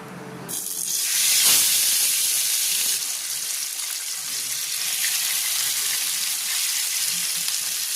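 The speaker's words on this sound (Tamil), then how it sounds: "மீன் இப்போ நல்லா பொரிச்சு எடுத்துட்டேன்." Tilapia pieces frying in hot oil, giving a loud, steady, close sizzle that swells early and then holds as a constant crackling hiss, with no talking.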